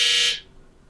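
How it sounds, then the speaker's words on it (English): A single loud, shrill electronic buzzer blares for about a third of a second, then cuts off and leaves quiet room tone. "It's like, that was the buzzer."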